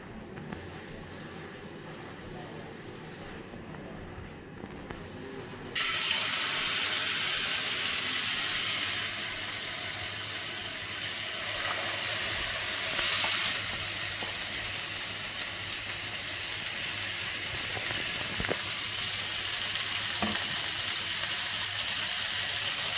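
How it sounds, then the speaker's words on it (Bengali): Two marinated chicken steaks cook in a pan with a steady, dense hiss of sizzling that grows noticeably louder after a few seconds and stays constant and close, with no voices. "তো এখন আমাদের স্টেকটা 4 থেকে 5 মিনিট প্রতি সাইডে আমরা এখন কুক করতে থাকবো।"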